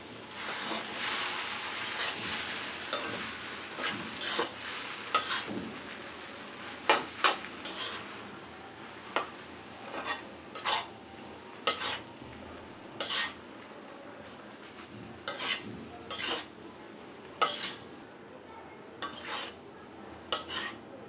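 Noodles with salt, sugar and slit green chilies are stirred in a pan, a utensil scraping and clinking against the metal in a steady series of sharp strokes over a faint background hiss.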